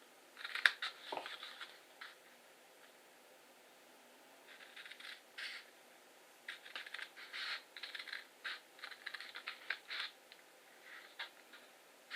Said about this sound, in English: I seem to be making too many snips